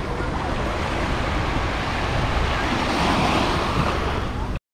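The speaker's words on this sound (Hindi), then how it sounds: "बहुत लंबी सारी बीच है ये।" Waves wash continuously onto a long sandy beach at Larnaca, Cyprus, a steady close surf roar with some wind noise and no talking, cutting off abruptly at the end.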